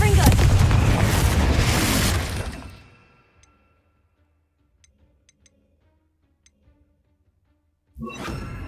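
In a video game, a Confringo explosive spell detonates with a loud booming blast that roars for about two seconds and fades into near silence, a few faint ticks follow, and then another burst of noise starts.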